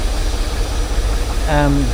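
A John Fowler and Co steam engine named Kingfisher runs at a steam working weekend with a steady low chugging rumble, and a voice speaks briefly over it near the end.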